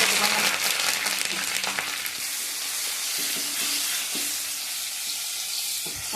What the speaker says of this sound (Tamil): நல்ல பொரு நேரத்துக்கு வெங்காயத்தை நல்லா வதக்கிடுங்கம்மா.